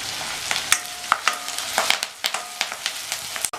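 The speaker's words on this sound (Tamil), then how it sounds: "வெங்காயம் டிரான்ஸ்பரண்ட்டாக வர வரைக்கும் வதக்கிக்கணும்" Chopped onions sautéing with chillies, ginger and curry leaves sizzle loudly while a spatula scrapes and taps through the pan in repeated quick strokes.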